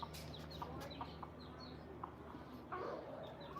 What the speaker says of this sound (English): let me show you the chickies